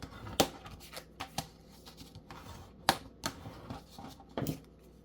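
Bone folder pressed and rubbed down firmly across paper for a junk journal stationery keeper, giving a run of sharp, close dry creaks and scrapes in irregular bursts at quiet level.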